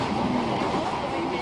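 Steady rumble and rattle inside a moving train, a continuous close wash of wheel and carriage noise with a low droning hum throughout.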